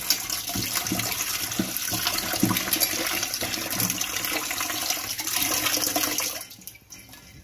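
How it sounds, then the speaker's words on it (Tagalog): Blue ternate leaves are rinsed under running water, making a steady rushing, splashing stream that stays fairly constant with small knocks and then dies away at the end, with no talking. "natapos na nating hugasan yung ating ito, yung ating blue ternet"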